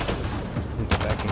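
Rapid gunfire in the sci-fi shooter Mass Effect Andromeda, a brief dense burst of shots with a sharper crack near the end, loud and close, no voices.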